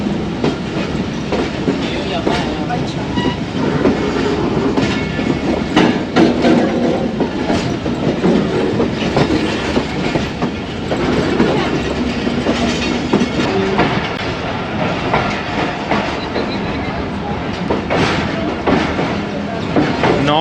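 The Allama Iqbal Express rolls into Khanewal junction, a steady rumble of railcars with rhythmic clickety-clack over the rails and occasional clanks, continuous and close, with faint voices in the background.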